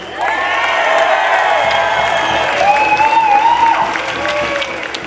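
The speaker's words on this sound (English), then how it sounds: "give her a huge round of applause" A rally crowd breaks into loud applause and cheering, with whoops and shouted voices rising over dense clapping that continues throughout, close and energetic.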